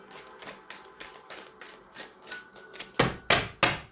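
Tarot cards being shuffled in a quick riffle, a run of soft papery bursts roughly twice a second, then three louder, sharper card slaps at the end, close by with no talking.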